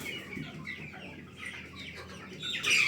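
Rhode Island chickens cluck and murmur close by in a box, a busy overlapping flock chatter with a louder squawk near the end.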